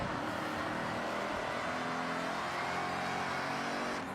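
Monster truck racing over snow in the Forza video game, a steady loud engine roar with revving and tire noise running continuously throughout.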